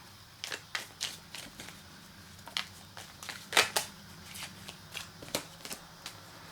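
Tarot cards being shuffled and pulled by hand, a quiet series of crisp riffling flicks and slaps in an uneven rhythm, close and alone.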